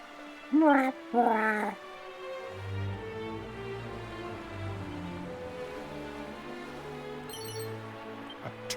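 In Dragon Quest II HD-2D Remake, two short bright cat meows sound at the start, followed by a gentle melodic game music loop.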